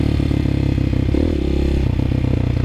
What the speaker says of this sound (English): Clutch slipping like a motherfucker, dude.